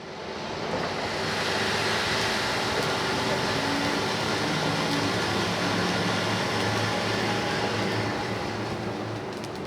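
A coffee roasting machine runs steadily, its agitator churning beans while a cooling fan underneath adds a broad, even rushing roar; the noise is loud and continuous from near start to finish, with no talk over it.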